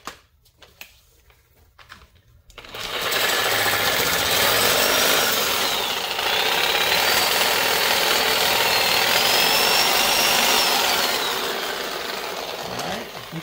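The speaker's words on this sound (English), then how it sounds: "you're cutting, take a break once in a while and make sure to see how deep you're going through this bushing" A power saw cuts through the rear axle housing bushing of a 1993 Mustang Cobra 8.8 rear end, starting after a quiet pause and then running as a loud, steady, close grinding rasp with slight pitch shifts.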